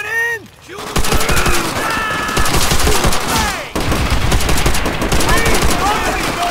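Dense fusillade of rifle and machine-gun fire fills a Call of Duty: World at War battle on Peleliu, rapid overlapping bursts close and loud, with shouting soldiers mixed in and a brief lull before the firing resumes.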